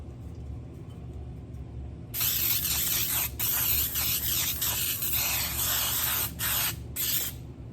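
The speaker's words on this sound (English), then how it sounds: "I'm just going to go ahead and spray the bottom of my glass dish." Cooking spray hissing onto the bottom of a glass baking dish, a close, loud aerosol burst of several seconds that pauses briefly twice and then stops, over a low background hum.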